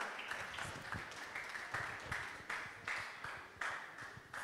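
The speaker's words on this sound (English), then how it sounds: "Please keep clapping for him." Faint, distant clapping from an audience at a church young professionals' seminar, swelling in rhythmic waves about every second, as if a crowd claps in time for a speaker, with no clear voices.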